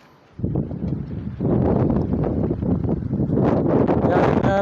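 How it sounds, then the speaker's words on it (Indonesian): Strong wind buffets the microphone in a loud, continuous low roar that swells after the first second and keeps gusting without a break. "semoga tidak berisik anginnya ini agak kencang"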